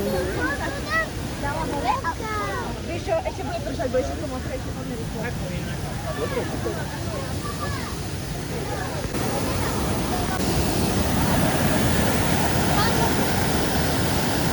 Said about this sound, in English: here you get to see the whole view of the waterfall